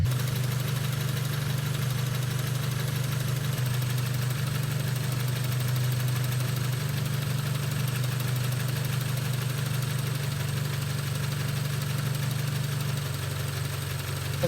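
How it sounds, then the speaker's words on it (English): A 1991 Toyota MR2 Turbo with the 3SGTE engine idles steadily during an oil change, a constant low hum with a fine mechanical ticking layered on top, close and unbroken throughout. "We have to let this engine idle for at least 15 minutes"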